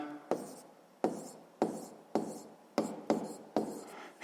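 Pen or chalk strokes writing out a physics pressure calculation during a seventh-grade lesson: about seven scratchy strokes in a steady rhythm, each starting sharply and fading, close and fairly quiet.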